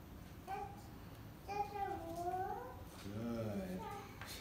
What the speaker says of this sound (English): You can hear my daughter playing in the background.